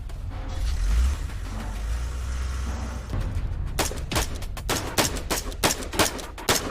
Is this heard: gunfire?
yes